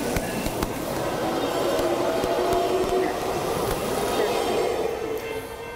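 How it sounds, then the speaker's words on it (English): A train pulls into a station, a steady rumbling roll with faint wheel squeal and clatter building and easing over several seconds, heard nearby with no speech over it. "You got another train there."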